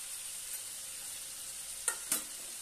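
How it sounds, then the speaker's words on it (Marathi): Spices being stirred into potato bhurji in a frying pan: a soft steady sizzle runs throughout, broken near the end by two quick scraping strokes of the spoon against the pan. "छानपैकी एकत्र करून घेऊया।"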